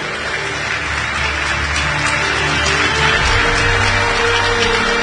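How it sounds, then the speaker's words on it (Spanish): A church congregation claps during a sermon, a thick, continuous round of applause filling the hall, with a low rumble underneath that grows a little louder partway through. "Dale un fuerte aplauso al Señor."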